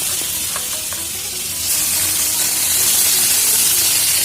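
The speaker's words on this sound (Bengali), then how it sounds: "এবার এই সব সবজিগুলো একসাথে আমি এই তেলের মধ্যে দিয়ে দেবো।" Long-cut yard-long beans, pumpkin, eggplant and potato frying together in hot oil, a steady broadband sizzle that swells louder partway through, with faint utensil clinks early on and no talking.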